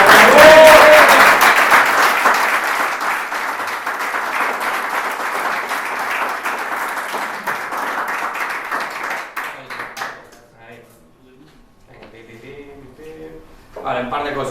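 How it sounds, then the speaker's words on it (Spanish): A seated audience at an introductory talk on Bitcoin's Miniscript language gives a loud, dense round of applause lasting about ten seconds before it tapers off and a voice starts speaking. "Bueno, haces un aplauso, ¿no?"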